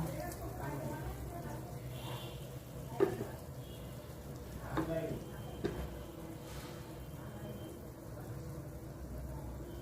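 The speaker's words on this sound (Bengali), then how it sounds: "ঢেলে মশলাটাকে ভালো করে কষিয়ে নিব।" Spice paste of dried chilli powder with almond and pistachio paste sizzles steadily in hot oil for beef tehari, a continuous close hiss broken by a few louder utensil knocks as it is stirred.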